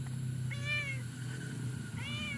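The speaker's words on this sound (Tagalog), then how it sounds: "Hindi kita maintindihan talaga panay meow-meow mo." A cat meows outdoors in two separate drawn-out calls, close to the listener and fairly clear over a steady low background hum.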